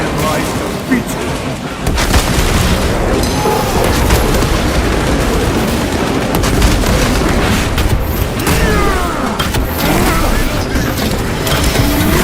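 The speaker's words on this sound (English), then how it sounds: "Using crack grenade." A crack grenade detonates in the video game Warhammer 40,000: Space Marine 2, giving loud booming blasts tangled with metallic mechanical clanks and bursts of gunfire. The noise churns densely and continuously throughout.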